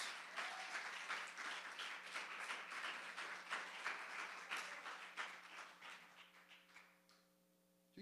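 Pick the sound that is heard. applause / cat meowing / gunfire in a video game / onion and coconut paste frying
applause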